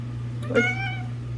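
A single pet cat gives one clear meow near the middle, close to the microphone, over a steady low electrical hum in an indoor room.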